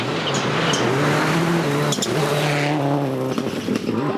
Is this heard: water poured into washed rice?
no